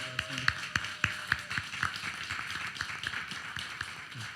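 A church congregation at a Sunday service claps to welcome guests, a moderate burst of hand claps that thins out and fades over a few seconds, with no talking.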